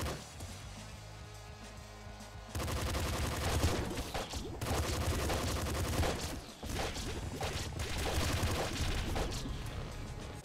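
A golden SMG fires in the Nuclear Throne video game as dense, rapid bursts of gunfire over game music, loud and nearly continuous after a quieter opening, with a brief break in the middle.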